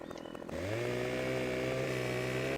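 Husqvarna chainsaw in the Farming Simulator 2015 video game revving up sharply after a quiet start, then holding a loud steady buzzing drone as it cuts into a tree.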